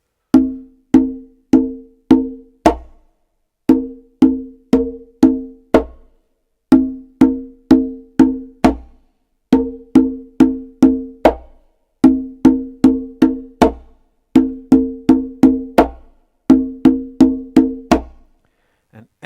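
Conga pattern repeated over and over: four ringing open tones followed by a sharper slap, in a steady even rhythm, close and loud.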